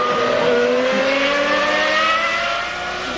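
A failing, smoking Ferrari V12 Formula 1 engine on a race circuit gives a strained, steady high-pitched whine that holds on, then fades slightly toward the end.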